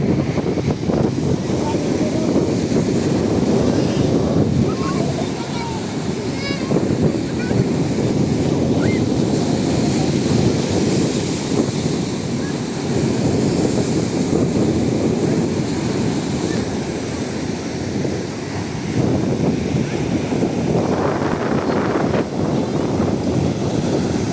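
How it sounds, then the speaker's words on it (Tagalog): Big sea waves churned up after a typhoon, roaring and surging continuously with heavy wind buffeting the microphone, loud and close throughout, with a faint voice briefly audible near the end. "lalaki ng alon"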